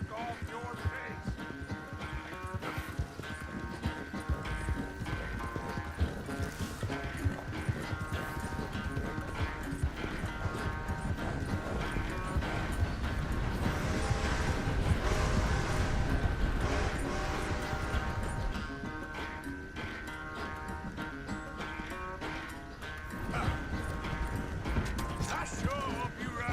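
Horse hooves clip-clopping steadily while riding in Red Dead Redemption 2, a continuous rhythmic trot with creaking tack and occasional snorts, heard close under game music and character dialogue.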